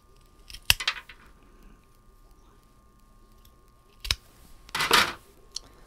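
Scissors snip a rose stem cutting with a couple of sharp, close clicks, followed by a short rustle of handling in an otherwise quiet setting.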